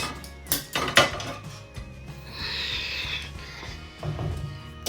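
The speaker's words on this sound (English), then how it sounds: "Let me grab my microwave plates, guys." Microwave plates clatter and clink as they are picked up and set down, a few sharp ceramic knocks followed by softer scraping and rattling, close and fairly quiet.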